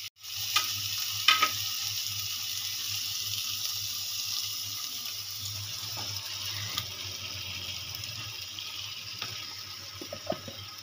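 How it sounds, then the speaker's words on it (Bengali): Marinated chicken for rezala sizzles in a hot pan, a steady close hiss with soft stirring scrapes and a few clinks over the nearly eleven seconds. "এবার আমি যে চিকেনটা ম্যারিনেট করে রেখেছিলাম দিয়ে দেবো চিকেন"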